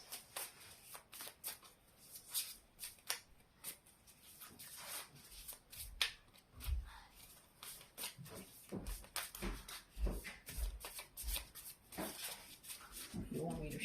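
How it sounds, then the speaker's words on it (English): Tarot cards are shuffled by hand in quick, soft riffling bursts and slaps, close and fairly quiet, continuing steadily throughout with brief pauses. "You want me to shuffle more"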